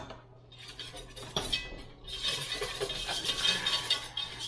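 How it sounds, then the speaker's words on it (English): Homemade enchilada sauce stirred in a pan, with a utensil clinking and scraping against the metal in loud, uneven strokes, growing busier partway through. "so we'll stir this up."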